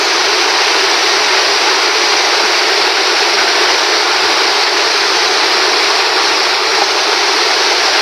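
Water gushes steadily and loudly from pipes broken by a typhoon, a dense, continuous rushing roar with no break and no voices over it.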